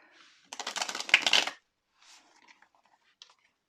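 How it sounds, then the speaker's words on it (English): A deck of tarot cards is shuffled in one brisk, dense riffle lasting about a second, followed by a few soft scattered taps and clicks as the cards settle in a quiet room. "let me just quickly shuffle the deck"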